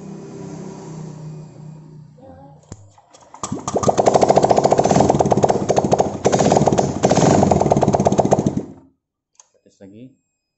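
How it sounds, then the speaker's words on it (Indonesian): An engine starter being tested on an engine after compression work, a loud, steady rapid churning crank lasting several seconds, then a pause and a few brief clicks, with some talk before it. "Ini kita tes starter."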